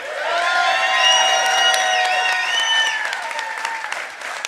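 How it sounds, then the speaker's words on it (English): A crowd at an election night event in Virginia applauds and cheers, loud sustained clapping with whoops and shouts, and a voice calling out high over the noise. "Please give her a round of applause."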